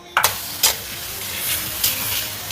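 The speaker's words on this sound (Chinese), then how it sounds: "炒乾裡面的水分，煸出裡面的油脂" Pork stir-frying in a hot pan for braised pork rice, fat rendering with a constant crackling sizzle and hiss, broken by several sharp scraping strokes of the spatula, close and loud.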